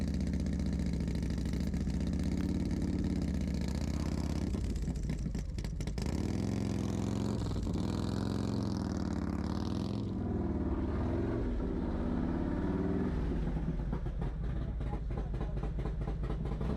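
A Harley-Davidson motorcycle engine runs close by as the bike is loaded into a toy hauler, a loud idling rumble that rises and dips with throttle blips partway through and keeps going to the end.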